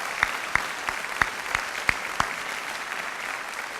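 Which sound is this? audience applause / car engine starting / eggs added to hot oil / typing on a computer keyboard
audience applause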